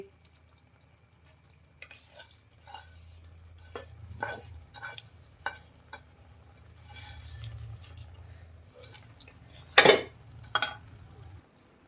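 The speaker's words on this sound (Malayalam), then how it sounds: "നമ്മൾ വറുത്ത് വെച്ചിരിക്കുന്ന ചേരുവകൾ അങ്ങോട്ട് ചേർത്ത് കൊടുത്ത് ഇളക്കാം" A spoon stirs fried onion, dried chili, curry leaves and roasted coconut into a pumpkin curry in a pot, with quiet scrapes and metallic clinks in an irregular rhythm and a sharper clatter near the end.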